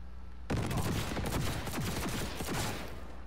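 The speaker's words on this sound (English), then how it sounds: "Who in the hell is shooting me?" Heavy gunfire in the video game Cyberpunk 2077, a sudden dense burst of rapid, overlapping shots that keeps going loud and close for several seconds with no talking.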